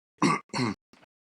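Two harsh, throaty coughs in quick succession, then a fainter third rasp, close by, like someone clearing a tickle in the throat.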